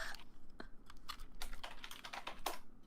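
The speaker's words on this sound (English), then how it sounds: "Mad Lad is typing, dude." Someone types on a computer keyboard, quiet irregular clicks and clacks in short bursts, faint and close, with no talking over them.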